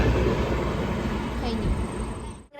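Passenger train passing close by on a rainy trip in Idukki, a loud continuous rumble with rattling wagon noise that cuts off abruptly near the end.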